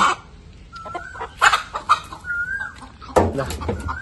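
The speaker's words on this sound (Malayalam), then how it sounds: "ഈ കോയിന്റെ കൂട്ടില് കോഴിയുണ്ട്." A hen clucks close by in short, repeated bursts, with a few louder squawks and some rustling in between.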